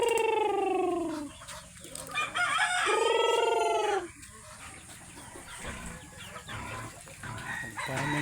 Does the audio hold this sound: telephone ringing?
no